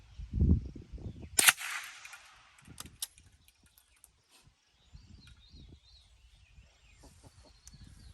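A single loud, sharp gunshot from a Springfield Model 15 single-shot .22 Long Rifle cracks early and rings off into the outdoors, followed by faint quiet ambience with light rustling.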